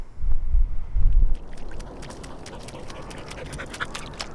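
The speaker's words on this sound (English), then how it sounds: "Good boy, good dog." A dog pants close by outdoors at an off-grid homestead, the breathing rhythmic and low at first, then fading under steady wind noise.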